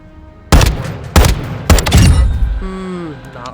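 ISO Hemlock assault rifle fired in semi-auto in Modern Warfare 2: three loud, close shots about 0.6 seconds apart, each with a booming tail, followed by a short mechanical whine as the sound fades.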